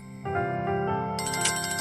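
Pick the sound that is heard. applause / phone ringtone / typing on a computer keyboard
phone ringtone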